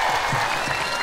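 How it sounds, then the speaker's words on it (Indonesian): Applause from a live audience at an Indonesian stage show, a dense steady wash of clapping with a faint voice beneath. "Ayo mana tepuk tangannya?"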